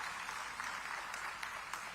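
An audience applauding to welcome a chief guest, a government minister, at a digital technology event: a faint, dense, even wash of distant clapping throughout, with a few sharper claps standing out.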